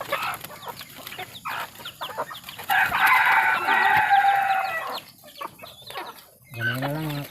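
Wild junglefowl crow and cluck nearby, with one long rooster crow standing out over scattered clucks and outdoor background noise, and a brief voice near the end.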